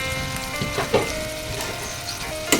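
Ground meat and sliced hotdog sautéing in a pan, a steady crackling sizzle with a few spoon scrapes and clinks against the pan, close and continuous, with no talking.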